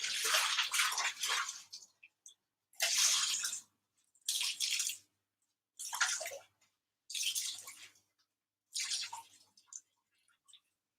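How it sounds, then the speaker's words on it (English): Water being squeezed out of wet fibre by hand before dyeing, six separate bursts of splashing, trickling runoff, each lasting about a second, close and fairly loud with quiet pauses between. "So I'm just squeezing out as much water as I can"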